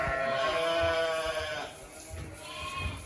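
Several weaned lambs bleat in overlapping, wavering cries inside a barn, loud and close at first, then quieter calls follow.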